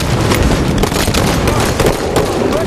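A grenade going off in the shooter game Halo Breakout amid dense, loud, continuous gunfire with repeated sharp cracks and booms throughout.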